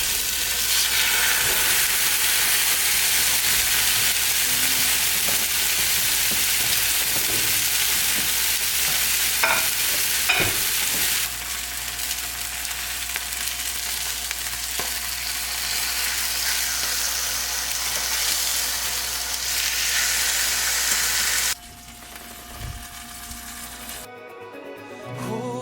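A steak frying in a pan gives a loud, continuous sizzle and hiss with occasional stirring or shifting noises, easing slightly in intensity toward the end.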